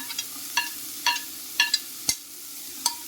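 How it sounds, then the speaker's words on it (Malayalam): Capsicum stirred and sautéed with onion in a hot pan, heard as a faint steady background sizzle broken by a series of sharp, separate utensil scrapes and clinks against the pan, with no talking. "ഇട്ട് കൊടുത്ത് നന്നായിട്ട് നമുക്ക് വഴറ്റിയെടുക്കാം."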